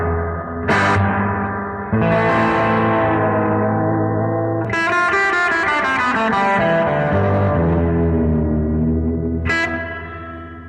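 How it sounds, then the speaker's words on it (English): Electric guitar played through a Fender Pano Verb amp with a bassy reverb in full mode, treble down and bass up, coming through both speakers; loud, sustained chords and notes with long, washy reverb tails. "I'm going to show a bassy reverb now. Treble turned down, bass up, and we'll have it in full mode."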